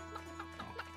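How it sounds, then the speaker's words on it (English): Chickens clucking in the video game Secrets of Grindea, a few short soft clucks spaced through the moment over a steady low background hum. "I've been forced to take care of these chickens all day long"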